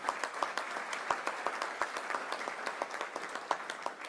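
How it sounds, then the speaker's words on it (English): Applause for sponsors from the audience at a Monroe Chamber of Commerce banquet, a room full of steady clapping at moderate loudness with distinct nearby claps popping through the wash. "Please join me in a round of applause for them."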